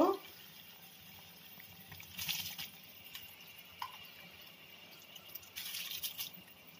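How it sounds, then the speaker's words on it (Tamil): Soaked rice poured into a pot of boiling water while making bread pulao, heard as two brief bursts of splashing and pouring over a low, steady background. "இப்போ நம்ம ஒரு பதினஞ்சு நிமிஷமா ஊற வச்ச அரிசியை வந்து இப்போ ஆட் பண்ணிக்கலாம்"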